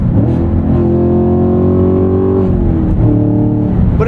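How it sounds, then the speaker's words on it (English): A V8 American muscle car, a 2023 Camaro SS 1LE or 2024 Mustang GT, revs hard on an Ohio highway, its deep engine note rising, easing briefly, then climbing again, loud and close throughout. "All that pent-up frustration after just sitting behind them is let loose with some V8 American muscle sounds."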